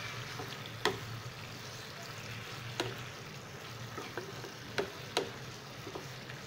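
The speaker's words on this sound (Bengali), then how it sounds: "আলুর সাথে আমি আরও 2-3 মিনিট" Potatoes being sautéed with spice paste in a pan for a Bengali rohu fish curry, giving a low steady sizzle with a few sharp scrapes and clicks of a spatula scattered throughout.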